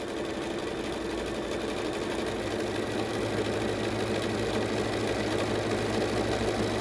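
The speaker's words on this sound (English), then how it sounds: "I'm lining this up and stitching over just to hold everything down and wrap my edges" Sewing machine stitching and wrapping the edges of swimwear fabric, a continuous fast needle chatter with a steady motor hum, close and even throughout, no talk.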